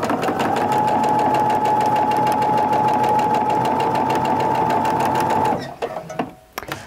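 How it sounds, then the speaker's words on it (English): A sewing machine stitches quilt pieces together in a loud, fast, steady whirring run close by for several seconds, then stops abruptly, leaving a few faint handling clicks. "we're gonna sew down the other side"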